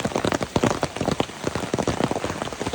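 Rain falls on a plastic tarp stretched overhead on a hillside, making a close, dense patter of drops that tap unevenly and continuously, with no voices.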